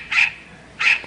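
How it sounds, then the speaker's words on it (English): Goldie, a talent show performer, barks like a dog: two short, bright, sharp barks spaced well apart, close and fairly loud, with no talk over them. "He can bark like a dog so far."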